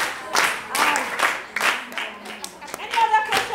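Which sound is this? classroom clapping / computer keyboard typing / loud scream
classroom clapping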